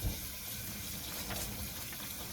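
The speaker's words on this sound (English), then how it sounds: "I'm gonna rinse it with cold water to stop the cooking process" Cold tap water gushes steadily over strained lentil pasta in a colander, a continuous close splashing hiss with no talk.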